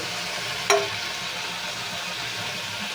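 Onions frying in a pan for chicken curry give a steady, close broadband sizzle, with one brief metallic scrape or clink early on.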